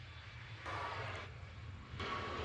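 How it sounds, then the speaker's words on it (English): A United Boeing 737 MAX 8 jet departs Nashville International Airport, a faint, distant broadband roar that swells twice and holds steady throughout. "Our next departure, another United. This one, flight 1839, a 737 MAX 8 headed to Denver."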